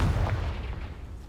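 A Confringo fire spell blasts off in Hogwarts Legacy, a single deep, rumbling burst up close that quickly decays into a low, muffled roar.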